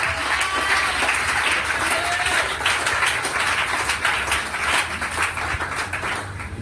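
An audience at an entrepreneurship conference on wealth creation claps in a sustained, dense round of applause lasting several seconds, with faint crowd voices mixed in.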